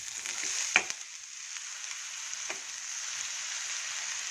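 Greens sizzle in a pan of hot tempering, a faint, steady hiss with a couple of soft stirring clicks and no voices.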